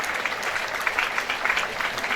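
A crowd at a celebration of life claps in steady, dense applause, close and fairly loud for the whole short stretch.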